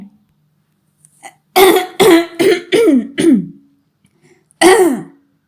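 A man clears his throat in a run of five quick, gruff rasps, then pauses and gives one more, close and loud against a quiet room.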